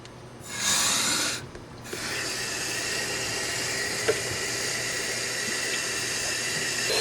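Water runs steadily into a cracked marine engine block through a hose, a constant close rushing hiss with a louder surge near the start.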